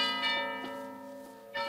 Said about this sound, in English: The monastery bell is ringing.